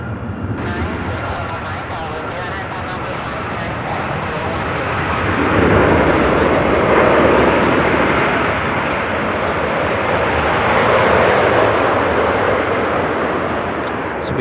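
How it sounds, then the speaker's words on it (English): A CRJ 900 regional jet arriving from Augusta, Georgia, its engine roar swelling into a broad rumble and rising twice, under intermittent radio chatter. "we have a CRJ 900 arriving here from Augusta, Georgia"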